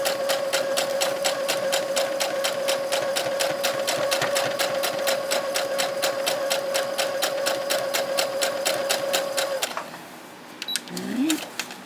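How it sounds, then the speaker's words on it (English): A sewing machine runs steadily for close to ten seconds, stitching along a line on a paper-pieced Halloween coaster, its rapid mechanical chatter loud and close before it stops and a brief soft sound follows. "we're just going to sew right along that line"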